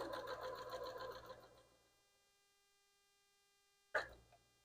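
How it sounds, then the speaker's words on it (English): A sewing machine stitches a paper-pieced quilt block for a tall house design, running steadily at close range for about two seconds before it stops, then one sharp clack comes after a pause. "now we're going to switch back to the camera for this sewing machine. And we are going to get this sewn"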